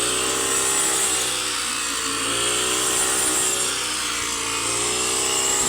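A brush cutter mows down rice stalks during harvest in a Lao paddy, its small engine whining steadily at high revs with a constant dense buzz and the rasp of cutting, close and loud throughout.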